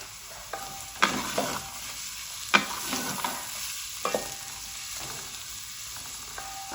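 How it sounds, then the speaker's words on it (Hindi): Bitter gourd fries in a cup of oil in a pan, giving a steady low sizzle with a few sharp clacks of stirring scattered through it, with no talking. "अब इनको फ्राई करेंगे।"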